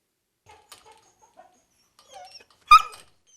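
Stray dogs at an animal shelter whimper and yelp quietly in the background, then one lets out a sharp, louder bark near the end.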